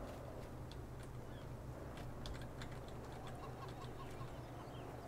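Chickens cluck in a French farm setting in Farming Simulator 19, a steady stream of soft, overlapping clucks and short calls over a low ambient hum, with no talking.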